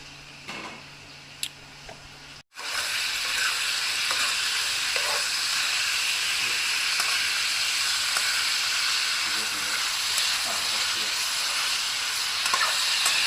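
Pork sizzles loudly and steadily in a hot pan, a dense continuous frying hiss that starts abruptly after a brief quieter moment of faint kitchen noise and carries on without pause.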